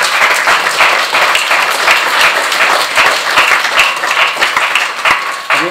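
Audience applause fills the hall at a political meeting, loud dense clapping from many hands sustained for several seconds with no voices.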